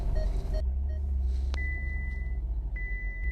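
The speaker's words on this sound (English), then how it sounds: "See, the Ferraris, binging and bonging." Ferrari 488 Spyder warning chimes, two clear electronic tones sounding in sequence over the low rumble of the convertible's engine and road noise, with no voices.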